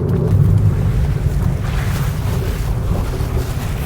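Inside the cabin of a 2024 Maruti Ertiga ZXI CNG, a steady low rumbling hum with airy noise holds evenly throughout, with no talking.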